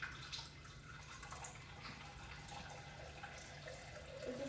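Water recorded through a crystal microphone gives a steady, hissing trickle and faint drips, like a tap running into a basin, continuous and moderately close, with no voices.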